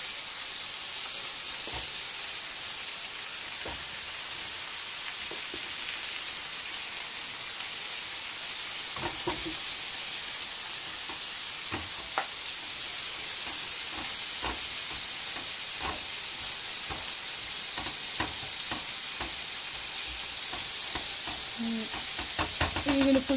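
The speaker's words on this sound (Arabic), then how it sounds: "حنا كنطيبو بالزبدة" Food frying in butter in a pan for a Moroccan-style full English breakfast, a steady loud hiss with scattered crackles and scraping stirs throughout, near and without talk.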